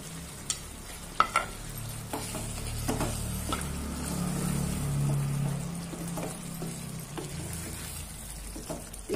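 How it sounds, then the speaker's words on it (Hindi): Fried masoor dal bhapori are stirred into hot masala sizzling in oil, with a soft steady fry under scattered clinks and scrapes of a spoon against the pan. "अब मेरा देखिए मसाला भून रहा है"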